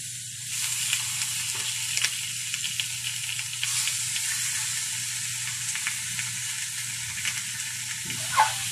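Pork pata sizzles and crackles steadily as it grills in its own oil, a close, continuous fry with a low hum underneath and an occasional louder pop.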